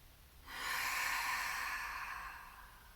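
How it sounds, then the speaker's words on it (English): One long, deep breath during a beginner yoga exercise, a soft airy rush that swells in, holds, then slowly fades, close and quiet with no talking. "So just take 4 deep breaths."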